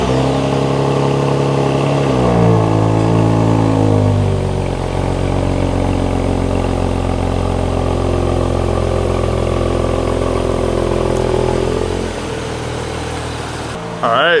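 A 2023 Nissan Z's engine cold-starts and holds a loud, steady fast idle close by, a rising whir at the catch before the revs settle into a constant drone that drops slightly near the end.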